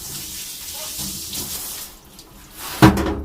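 Running water splashes during a dog's rinse at a grooming session, a short close gush that rises sharply near the end, with faint voice in the background.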